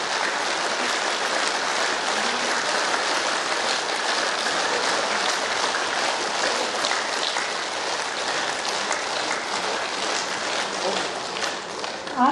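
Hands clapping steadily among a large group of participants at an outdoor mega yoga camp in a garden in Indore, a dense, continuous patter that holds evenly throughout.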